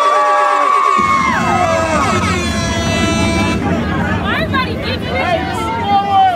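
A crowd at a concert cheers and roars, with air-horn blasts and loud sustained horn tones over dense babble and shouting, close and continuous throughout.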